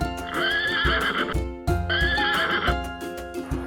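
A pony neighs loudly twice in close succession, each whinny long and wavering, heard alone on a farm.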